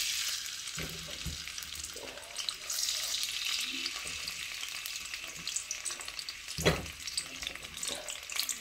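Fish fries in a pan with a loud, steady sizzle and bubbling, broken by a few utensil clatters and stirring knocks, close by and without talk.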